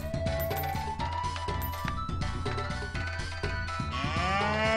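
Cow mooing in the video game Doom & Destiny, a drawn-out bovine moo over looping game music that stays loud and continuous throughout.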